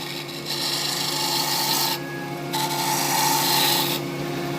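A carbide lathe tool cutting an African zebrano wood pen blank, a close, continuous rasping scrape with brief pauses and changes in tone as the tool moves along the spinning blank.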